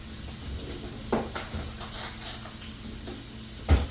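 Butter melts in a hot pan on a stovetop with a soft, steady sizzle, broken by a couple of sharp utensil clanks against the pan.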